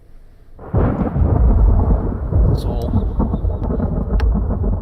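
Thunder from a thunderstorm in the train simulator game Run8 breaks in after a quiet moment and keeps rolling, deep and loud, with faint crackles on top and a brief spoken word near the start.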